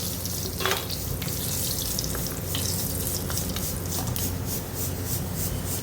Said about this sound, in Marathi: दहा बारा काजू ते तेलात भाजून घेऊ